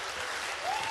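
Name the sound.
audience applause for Funky Monkeys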